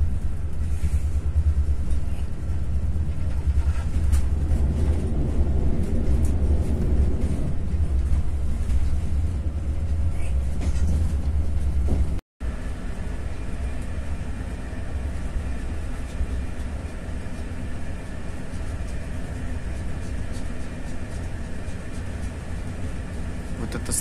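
A double-decker day express train running from Moscow to Voronezh accelerates, heard from inside the car as a loud, continuous low rumble with steady rolling noise and a brief break midway.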